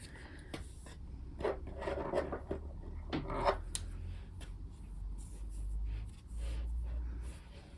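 Scissors trim the yarn ends on a simple crochet bookmark, giving several short, dry rasping snips close by in quick clusters. No one talks.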